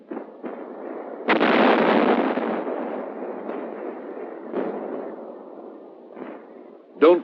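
Bangalore torpedo charges set off by World War 2 US Army combat engineers, heard as a loud, long rumbling blast followed by several smaller distant thuds and a sharp final burst.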